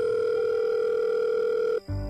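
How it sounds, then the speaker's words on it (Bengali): A steady telephone ringback tone holds for almost two seconds, loud and close, then cuts off and is followed by a brief low click as the call is picked up. "রিং হচ্ছে ওপাশ থেকে।"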